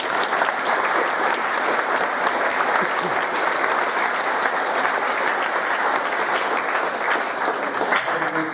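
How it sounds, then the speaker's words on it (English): Audience clapping at a junior school prizegiving, an even, continuous wave of applause from a large crowd that fills the whole stretch without pause. "We'll get a clap for Hayden if he's coming on stage."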